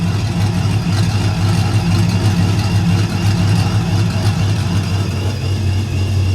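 A car engine idles steadily after its electric exhaust cutout closes, a continuous muffled low rumble with a constant hum and no revving, close and fairly loud throughout.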